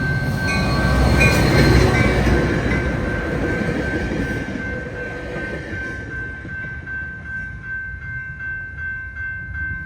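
An F40PH diesel locomotive hauls a Trinity Railway Express commuter train along double track, a loud rumble and wheel roar that peaks early then fades as it passes away, with a steady high tone lingering throughout.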